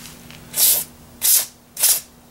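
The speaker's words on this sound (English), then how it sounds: "I'm going to use some of this spray cleaner" Three short, forceful hissing bursts of solvent spray cleaner into a Ruger P90 .45 semi-automatic handgun at an even pace, loud and close, with a faint steady hum underneath.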